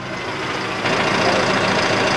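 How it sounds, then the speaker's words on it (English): A Deutz tractor engine runs close by with a rough, rumbling drone that steps up in loudness about a third of the way in and then holds steady. "He actually ended up with a Deutz tractor."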